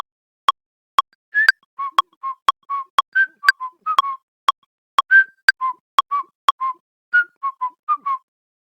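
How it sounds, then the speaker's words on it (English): Short human whistled notes recorded in Ableton Live ring out alone over a steady metronome, whose crisp clicks tick at an even beat as clear, close whistles fill the gaps between them. "I activate the metronome and record some whistles."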